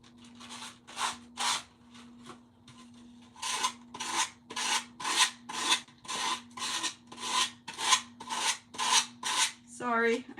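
Sandpaper rasping across the metal of a smashed tin can in a craft session, a close, loud series of rhythmic back-and-forth strokes, slower at first then quickening, with a steady electrical hum beneath.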